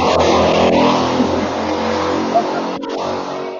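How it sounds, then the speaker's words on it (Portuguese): Motorcycle passing by outdoors, a loud steady engine roar close at hand that swells and holds throughout, masking other sounds. "Passou uma moto aqui."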